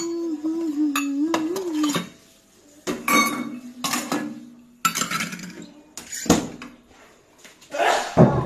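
At dinner time at home, bowls and dishes clink and knock together, with several loud hard clatters and brief metallic rattles separated by pauses, while a voice hums and talks at the start.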